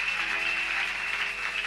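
Church congregation applauding during a worship service, a dense, even wash of clapping filling the short stretch with no break.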